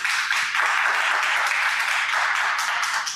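Audience at a live event applauding a man as he steps forward, a steady, dense burst of clapping that fills the whole short moment, with little else audible.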